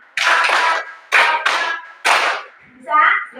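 Five close hand claps in a classroom clapping game, in quick doubled bursts, with a brief voice trailing after.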